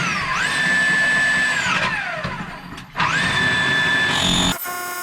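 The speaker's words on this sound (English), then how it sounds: "Get our core drill back in here." Core drill boring through a wall in a dim space: two whining runs, each spinning up, holding a high steady pitch while grinding, then winding down, loud and close.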